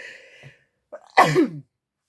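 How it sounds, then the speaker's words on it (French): A single sharp sneeze bursts out after a short gasping intake of breath, close and loud, then silence. "J'ai envie d'éternuer, excusez-moi."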